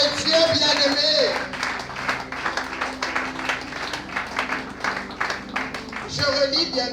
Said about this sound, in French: Acclamons la parole de Dieu, bien-aimé.